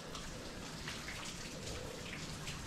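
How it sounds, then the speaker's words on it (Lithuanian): Water dripping steadily from rock faces at a snowy cave mouth, sounding like a continuous light rain of scattered drops, close and moderately loud with no voices. "Lyja nuo uolų."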